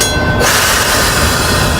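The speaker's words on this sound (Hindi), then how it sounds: "दिल्ली से आने वाली एक ट्रेन ने ब्रेक लगाया" A train from Delhi pulling into Kathgodam railway station at night, steady loud rumble of wheels on rails with a faint high brake squeal rising in the opening moments, no voices.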